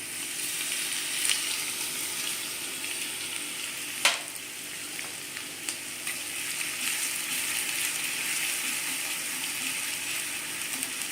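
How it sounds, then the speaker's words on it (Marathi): Garlic-chili paste added to a hot pot for a sprouted horse gram drink, a steady close sizzle with one sharp clatter early on and a few small clicks, moderately loud, no talking. "लसूण मिरचीचा ठेचा मला घालायचा आहे तो मी याच्यात घालून घेते"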